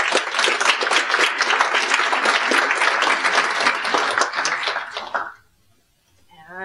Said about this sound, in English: Let's give all our speakers another round of applause.